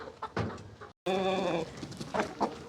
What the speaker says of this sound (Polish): On woła kury, a one nie mogą wyjść.